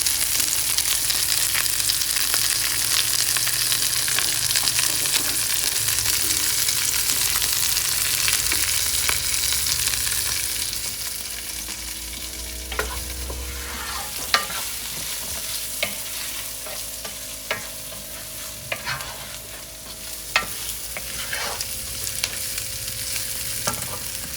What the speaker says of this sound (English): Just frying up into the oil